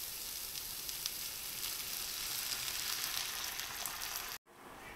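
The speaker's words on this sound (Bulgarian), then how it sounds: "Сега добавяме малко вода на броколито." Water poured onto broccoli frying in a pan sets off a steady, bright sizzling hiss that holds evenly for several seconds before cutting off abruptly.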